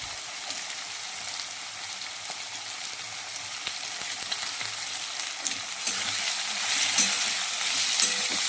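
Carrots stir-frying in a hot pan for vegetable Maggi noodles, a steady close sizzle with light scraping stirs, loudening toward the end.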